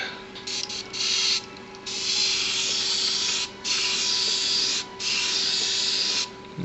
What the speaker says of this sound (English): I'm going to shoot this straight from the airbrush, no thinning